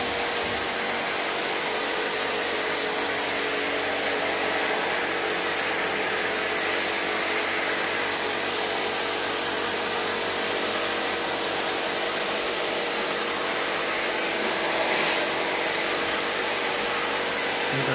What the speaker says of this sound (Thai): เพิ่นก็เริ่มล้างแล้วครับตอนนี้นี่แหละครับคือการล้างแอร์